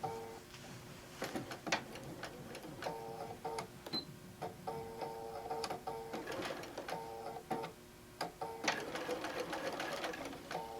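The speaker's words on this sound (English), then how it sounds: "I am going to run a stitch, reinforcing at the beginning and at the end." A sewing machine runs a reinforced stitch while a quilt-as-you-go tote bag is sewn, producing fast, even mechanical rattling and ticking in short bursts with brief stops between runs, fairly quiet and close.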